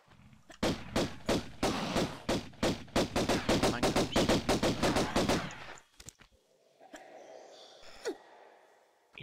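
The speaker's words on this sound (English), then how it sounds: "I'm gonna use pistols for the crocodile" Pistol fire in Tomb Raider I aimed at a crocodile: a long, rapid run of loud, evenly spaced shots for several seconds, then a quieter stretch with a few isolated sounds and faint ambience.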